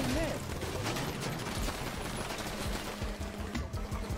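Gunfire from a video game shootout: dense, rapid shots clatter continuously at a moderate distance, with voices faintly underneath.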